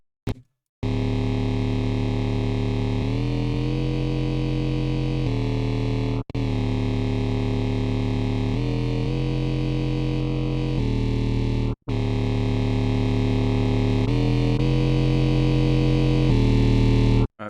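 Serum synthesizer bass patch with an LFO sweeping the filter frequency, a dense, distorted sustained tone with rhythmic wobbling modulation, played loud in three long phrases separated by brief gaps, no talking.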